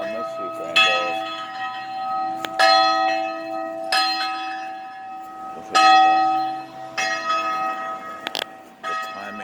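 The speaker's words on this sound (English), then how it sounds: "There goes the bell, man." Loud church bell strikes ring out at a steady pace, each bright metallic clang swelling and decaying into a sustained hum before the next, with faint talk nearby.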